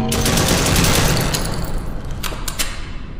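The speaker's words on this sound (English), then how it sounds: "I just unloaded so many bullets straight into your forehead" Sustained rapid gunfire from a horror-themed video game, a dense loud burst of automatic shots rattling for the first second and a half, then continuing more sparsely with a few sharper cracks near the end.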